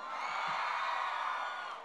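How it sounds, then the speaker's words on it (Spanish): A concert crowd yells and whoops at a Latin radio show's live event, forming a steady, loud wash of cheering voices that holds for the whole moment with no single voice standing out. "A ver, más fuerte ese grito."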